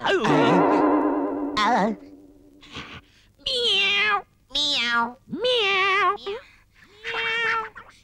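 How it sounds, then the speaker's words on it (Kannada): Several cats meow in turn in a Kannada comedy film scene, loud and close, with long drawn-out cries separated by short pauses and a slight echoey quality. "ಈ ಬೆಕ್ಕುಗಳದ್ದು ಒಂದೇ ಗಲಾಟೆ."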